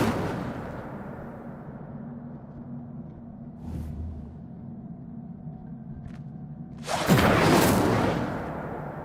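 An Incendio fire spell cast in Hogwarts Legacy bursts out as a loud fiery whoosh near the end, rising over a low ambient hum with a faint brief swish earlier.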